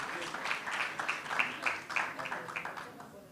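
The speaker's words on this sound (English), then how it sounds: "We can clap for them, actually." Audience at a university mental health conference claps for the organisers: moderate, fairly even applause with rhythmic peaks from individual clappers, steady throughout.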